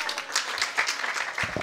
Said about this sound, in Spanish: Un fuerte aplauso para Jonathan, de verdad.